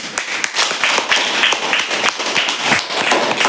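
Classroom clapping for a winning student group, a quick uneven burst of sharp hand claps from a small group of children, close and loud, steady for a few seconds.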